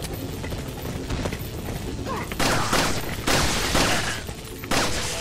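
Video game gunshots in an island survival shooter with a crossbow, several loud bursts cutting through a dense, noisy game mix.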